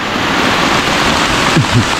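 Steady, dense rain pours down in a forest in a continuous loud hiss, with a brief low rumble near the end.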